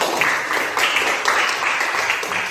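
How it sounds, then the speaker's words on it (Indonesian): Applause from a classroom of students, a steady spread of overlapping hand claps with a few rhythmic group bursts, fairly close and lasting a couple of seconds with no talking. "tepuk tangan."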